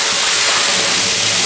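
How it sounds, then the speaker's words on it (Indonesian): Ingredients sizzle and fry in a pan in a home kitchen, giving a loud, steady hiss that runs unbroken and close throughout, with no talking. "sekarang kita goreng bahan-bahannya dulu."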